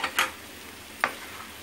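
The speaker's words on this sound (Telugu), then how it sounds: "మొత్తం అంతా కలిపేసేయాలి." Spices such as chili powder, garam masala and coriander-cumin powder are stirred into frying gongura mutton, with two sharp spoon scrapes against the pan over a quiet background sizzle.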